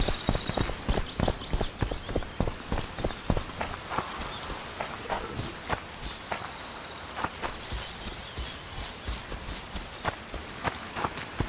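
Horse hooves clip-clopping at a steady walk in The Witcher 2 video game, a regular near rhythm of hoof strikes over soft ambient game sound, with no talking.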